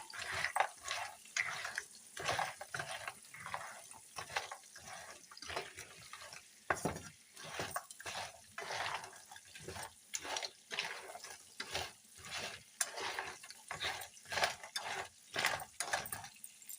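Crabs fry in oil in a pan for a crab curry, heard as a faint, steady sizzle broken by frequent rhythmic scrapes and clacks of a spoon stirring, with no talking.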